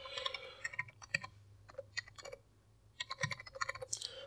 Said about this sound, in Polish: OK, hasło wpisane.